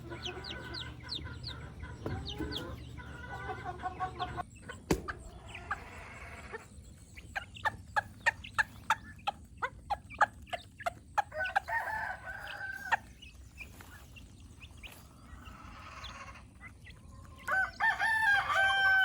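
Chickens and turkeys fill a barn with sound: a rooster crows and hens cluck, and a run of sharp, rhythmic gobbles and calls follows, some close and loud, others further back.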